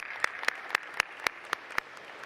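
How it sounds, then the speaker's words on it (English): A single person claps slowly and steadily, about seven even claps, fairly faint against a quiet room at a commencement ceremony as elected officials stand. "We want to give you a round of applause."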